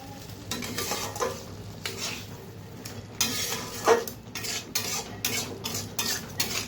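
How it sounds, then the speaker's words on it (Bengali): A spoon stirring sugar into boiled olive chutney in a pan, with irregular scraping and clinking strokes and a soft sizzle underneath, close and moderately loud. "চিনি দিয়ে ভালোভাবে নেড়ে নেব।"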